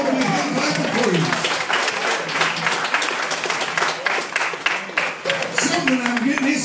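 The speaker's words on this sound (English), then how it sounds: "give the Lord a big hand clap of praise" A church congregation claps hard in praise during a Sunday service, a dense, loud roar of hands that runs throughout, with voices calling out over it.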